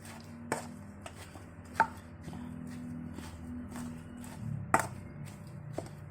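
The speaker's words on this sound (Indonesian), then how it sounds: "kentang yang tadi sudah kita goreng dan sudah kita tiriskan, lalu kita tumbuk hingga halus" Fried potatoes being pounded smooth with a stone mortar and pestle, giving sharp, irregular thuds with a few louder knocks spaced between quieter taps, close by and with no voices.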